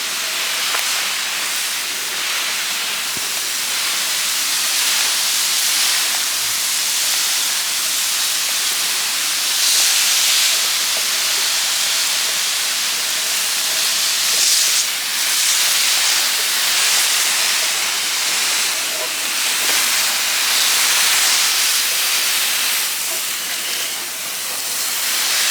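Water spray hissing steadily onto small potted succulents outdoors at midday, a continuous bright spray with slight surges, close and fairly loud with no talking.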